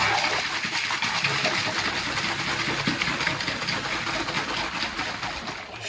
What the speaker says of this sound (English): we give it a shake, and basically what it does, it just, it's like when you flush the toilet, shakes all the water about, shakes the paper about